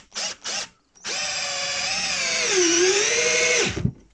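A Parkside PBSA 12 D4 cordless drill driver spins up and drives a long 6x140 screw in one sustained whining run of about three seconds, its pitch dipping under load near the end, after two short trigger blips.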